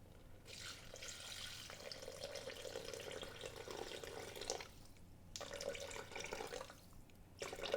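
Water running steadily into a pot for tomato and red lentil dahl, a soft continuous stream interrupted by two brief pauses, fairly faint and close, with no voices.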